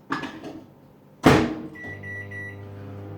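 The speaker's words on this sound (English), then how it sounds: "I'm putting it in the microwave on a plate so in case it overflows with a microwavable lid, and 90 seconds." A microwave oven shut and started: a door thump and clatter, then a steady low electrical hum with a faint high whine, close by.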